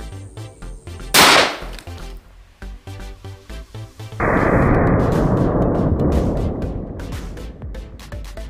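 A single loud, sharp gunshot from a Taurus Raging Bull revolver firing Thai-made .44 Magnum ammunition cracks out at close range. It is followed by a long, steady roar of outdoor noise.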